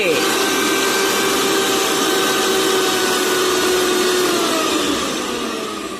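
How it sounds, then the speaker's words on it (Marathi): A Bosch TruMixxi 1000W mixer grinder runs with a loud, steady, high-pitched motor whine that fills the whole stretch and dips slightly toward the end. Someone speaks faintly under the noise. "1000 वॅटची मोटर आहे त्याच्यामुळे आवाज तर करणारच आहे"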